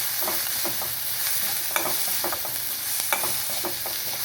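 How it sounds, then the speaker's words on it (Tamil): Curry leaves are stirred in a frying pan with a spatula, giving soft sizzling and a few sharp scraping strokes against the metal, moderately close with no talking. "அடுத்து கருவேப்பிலே சேர்த்துக்குவோம் நல்லா கிளறி விட்டுக்குவோம்"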